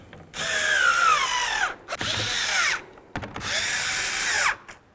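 Cordless power drill snugging up tow mirror bolts on a 2010-18 RAM 1500, three loud bursts of whirring with short pauses between, close by.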